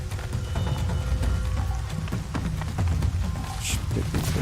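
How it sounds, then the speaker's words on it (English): Rain falling inside the shell of an old crashed plane used as a shelter in Horizon Zero Dawn, a steady patter of drops on metal that runs unbroken under low game sounds. "Old plane, not a bad shelter, minus the fact that it seems to be raining inside."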